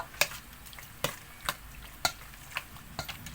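Pork liver sprinkled with paprika being stirred in a frying pan: a soft continuous sizzle with sharp utensil scrapes and taps against the pan at irregular intervals, roughly every half second, close up.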